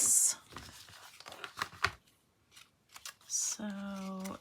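Scissors snip through strings on a handmade paper planner cover's belly band, a few crisp close cuts and rustles mixed with the crafter talking, ending in a steady buzzing hum.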